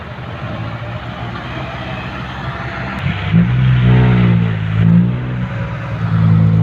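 A tractor engine rumbles steadily on a steep sandy dirt site, then revs up loudly partway through, its low drone rising and falling in pitch.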